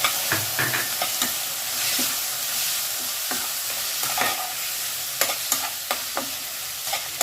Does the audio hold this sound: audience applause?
no